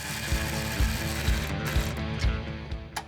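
Tech screws with washers being driven to mount a panel held by a panel clamp during a drag strip hearse build, a rhythmic ratcheting buzz with regular thumps, steady and close.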